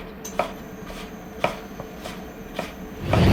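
A kitchen knife cuts squash into julienne sticks on a board in a restaurant kitchen, with four distinct, evenly spaced chops followed by a short rustle of handling at the end.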